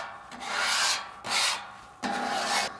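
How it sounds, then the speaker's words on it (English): A metal scraper pushes food residue across a Camp Chef flat top griddle toward the front grease tray, three firm rasping strokes in a row, close and fairly quiet, with no talking. "Now we got the majority of that scraped into our tray here."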